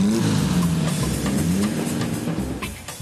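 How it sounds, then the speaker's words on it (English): A 1909 Blitz-Benz race car of 200 horsepower revs its big early engine close by, a loud rough throbbing roar that rises and falls, then eases slightly toward the end. "This Blitz-Benz race car was built in 1909, but already had 200 horsepower."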